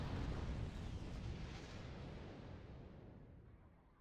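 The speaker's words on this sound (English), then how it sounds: "now we're getting the missiles coming in" Missile explosions in Wargame: Red Dragon, a deep rumbling blast that rolls on and slowly fades away over several seconds, heard at a distance and fairly quiet.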